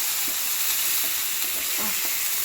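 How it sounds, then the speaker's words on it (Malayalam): Garlic frying in hot oil in a pan while being stirred for a fish curry, a steady close sizzle with occasional scraping stir sounds, no talking. "വെളുത്തുള്ളി, നമ്മളിത് ഇളക്കട്ടെ."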